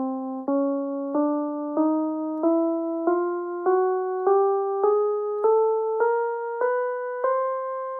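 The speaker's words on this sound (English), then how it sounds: "That's what you call a chromatic scale." A chromatic scale is played on a keyboard, thirteen evenly spaced single notes climbing by half steps, each struck cleanly and decaying before the next, with no other sound.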